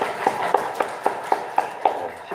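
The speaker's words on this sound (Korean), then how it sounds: "우리 박수 한번 부탁드리겠습니다." A church congregation applauds a member's birthday during a Sunday morning service, with crisp, evenly spaced claps landing about eight times in a steady rhythm over a quiet room.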